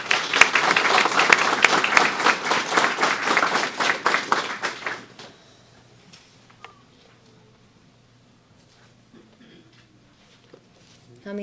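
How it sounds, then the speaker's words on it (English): An audience at an EMT academy class graduation ceremony bursts into dense, loud applause for about five seconds, then it fades to a quiet room with faint rustling. "let's give them a round of applause."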